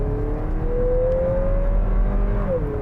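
Turbocharged engine of a 2022 Lexus NX 350 F-Sport SUV held against the brakes, a steady loud drone heard from inside the cabin with a rising tone that dips slightly near the end.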